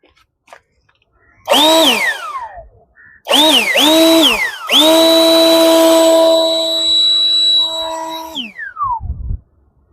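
A handheld violent fan blower car cleaning tool rated at 35000 Pa, whining loudly in several spin-ups with falling and rising pitch, then holding a long steady high whine before winding down, close by.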